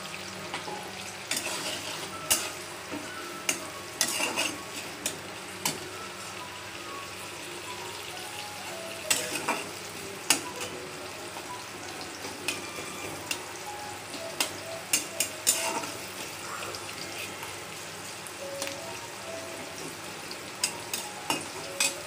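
Onions fry gently in mustard oil in a pan with a soft continuous sizzle, punctuated by repeated scraping and clinking taps of a spoon stirring against the metal.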